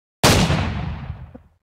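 A single loud, close shotgun blast from the video game Buckshot Roulette, with a sharp onset and a long rumbling decay trailing off, followed by a couple of faint small knocks.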